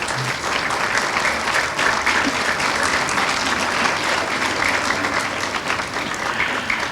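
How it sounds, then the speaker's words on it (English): Audience applause at a school speech and prize giving day, a steady wash of many hands clapping that holds at an even level for several seconds, filling the hall without any talk over it. "I think it deserves a clap."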